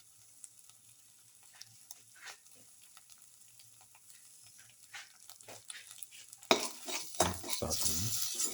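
Dal and spinach mixture sautéed and stirred in a pan, quiet faint scraping at first, then a louder burst of sizzling and spoon clatter in the last couple of seconds.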